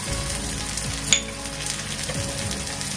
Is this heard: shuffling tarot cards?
no